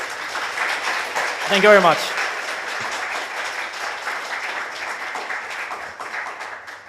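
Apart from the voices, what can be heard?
audience applause after a conference talk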